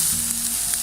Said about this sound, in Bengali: ভালো করে সটে করে নিচ্ছি.